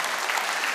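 A church congregation at a worship service claps together in a brief, dense burst of applause, close and fairly loud.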